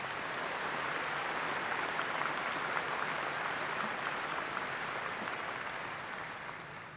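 Sustained applause from the audience at a university faculty award ceremony, a dense, even wash of many hands clapping that holds steady and begins to fade toward the end, with no talking over it.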